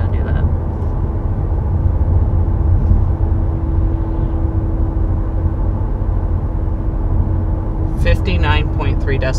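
Inside a 2022 Audi A3 with a dual-clutch transmission while cruising for a sound level check: a constant road and engine drone with a steady hum. A voice speaks briefly near the end.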